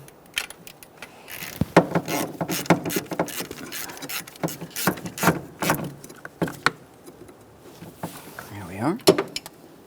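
Two 10mm mounting nuts are tightened on the fuel injector bracket of a 1999-2006 Chevrolet Silverado 1500 4.3L V6, producing bursts of sharp metallic ratchet clicks in irregular runs, close and moderately loud.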